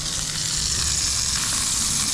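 A burger patty, still showing a few frozen spots, sizzles steadily in a hot pan just after being flipped, cooking in an RV kitchen. The frying hiss is loud, close and continuous with no breaks.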